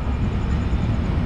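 The Kannur to Yesvantpur Express at Kozhikode railway station rumbles in a low, continuous roar, heard from inside the train in a brief, steady stretch.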